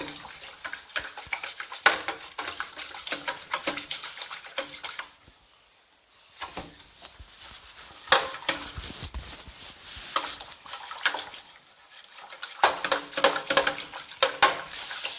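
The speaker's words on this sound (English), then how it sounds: "Usually what I do is I tilt my container here so I can stir it on one end" Sourdough rye starter being stirred into water in a tilted container, with a utensil scraping and sloshing in bursts of busy clattering and liquid swishing, pausing briefly in the middle before resuming close up.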